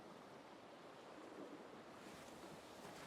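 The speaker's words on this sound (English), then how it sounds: "The sound of waves in the distance, softly lapping against the shore" Ocean waves wash steadily onto a shore, a soft, even hiss and roll of distant surf with faint wind and no voices.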